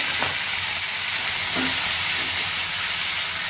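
Chili powder, turmeric, salt and cumin powder fry with a little water in a pan for a Bengali fish curry, a steady close sizzling hiss with faint stirring knocks.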